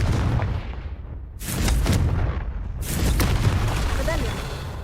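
Confringo fire spell blasts in Hogwarts Legacy, two broad whooshing bursts with low rumbling booms, fairly loud against a steady game ambience.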